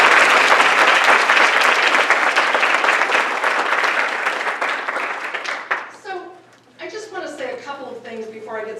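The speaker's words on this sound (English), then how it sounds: "let's give another round of applause for the Institute" An audience at a philanthropy talk gives loud, sustained applause that fills about six seconds before dying away, and a speaker then begins talking.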